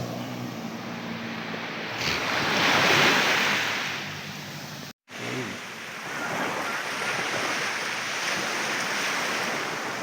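Ocean waves wash onto a white sand beach at San Victor Island, Davao Oriental, in a steady roar of surf, swelling louder for a few seconds, with a brief dropout midway before the sound continues.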